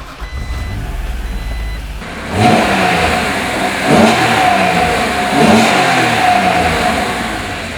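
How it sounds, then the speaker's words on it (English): A 1991 Acura NSX engine fires up and revs in several rising pulls. The sound is loud and close, with a steady beeping tone running over it. "let me fire it up for you so you can hear it, because it actually got this great sound."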